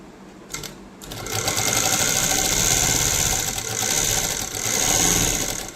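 An electric sewing machine stitches fabric with a fast, steady, loud mechanical whirring rattle. It starts after a couple of brief clicks and runs continuously to the end, with no voices.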